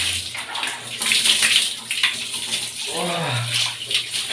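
Water poured over someone bathing at night, a loud close splashing gush that swells and falls, with a brief vocal sound near the end.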